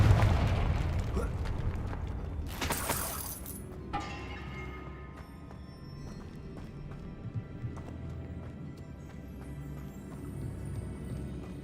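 A Confringo blasting spell in the video game Hogwarts Legacy: one loud burst about a third of the way in, followed by quieter ambient sounds with scattered soft thuds and clops.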